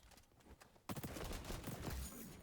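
M16 rifle fire in the shooter game XDefiant starts after a quiet lead-in and becomes a dense, rapid burst of shots that continues steadily to the end.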